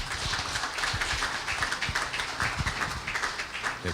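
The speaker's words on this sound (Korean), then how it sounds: "다시 한번 후보님들께 박수로 격려해 주시기 바랍니다." An audience at a dental association election candidates' forum gives the candidates steady, continuous applause, dense claps at moderate loudness throughout, with a faint voice underneath.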